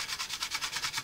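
Rhythmic back-and-forth strokes of wet sandpaper on a plastic model ship hull, about seven even passes in a second, a close, hissy rasp with no talking.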